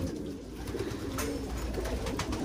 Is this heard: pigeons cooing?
yes